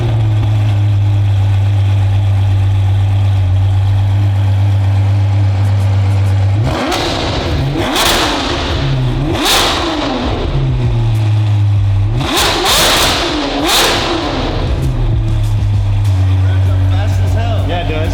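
A Ferrari V12 with a fault after a flashing oil light idles with a steady low drone, then revs sharply several times in two bursts and settles back to idle. Voices talk faintly beneath it.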